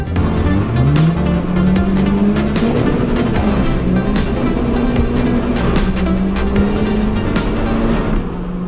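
A K23 turbo-swapped Honda Civic EG launches hard, engine revving with a rising, wavering pitch as the tires spin and squeal, loud and close for the whole stretch with no talk.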